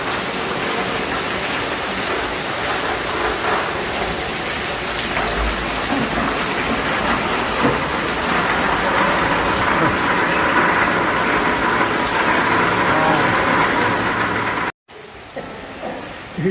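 Heavy rain pours down steadily at a house under renovation in Thailand, water streaming off the deck above in a dense, continuous roar that cuts off abruptly near the end, leaving a quieter patter.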